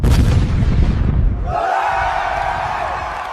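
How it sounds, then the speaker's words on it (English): A loud, rumbling blast with heavy low-end roar for about a second and a half, then a ringing, crackling tail with a steady high hiss. "explosion"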